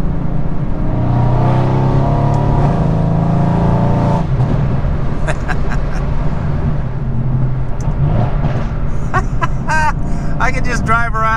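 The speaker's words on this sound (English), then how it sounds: "I can just drive around and downshift, upshift, and just listen to the car" A Mercedes C63 AMG engine drones steadily while driving, rising in pitch as it accelerates through the gears, loud and close from inside the car, with a voice talking over it in places.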